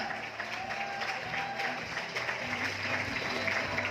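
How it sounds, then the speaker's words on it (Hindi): Loud, sustained clapping from a large crowd, steady and dense throughout with a faint hum of voices beneath it. "जोरदार तालियां।"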